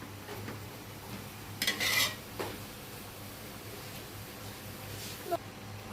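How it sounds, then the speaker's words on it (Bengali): A spoon stirs bottle gourd curry in a cooking pot: brief metallic scrapes and clinks against the pan come at intervals over a low, steady background hum. "একটু একটু পরে পরে নেড়ে দিচ্ছি"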